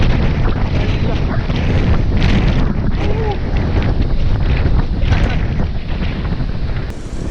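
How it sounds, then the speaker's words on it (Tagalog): Strong wind buffets the microphone steadily throughout a bike ride on a foggy, cloudy loop, a loud continuous roar with occasional gusty thumps and a voice speaking faintly beneath it. "Grabe lakas ng ihip ng hangin."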